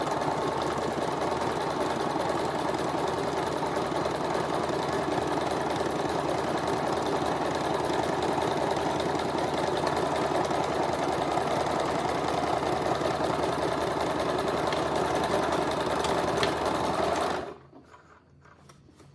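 A sewing machine stitches in one long continuous run, its rapid mechanical chatter holding steady through a switch from reverse back to forward before stopping abruptly near the end.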